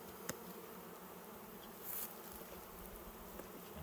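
Honey bees held in a Varroa Easy Check cup drone in a faint, steady buzz, about half a cup of bees, close but quiet, with no voices.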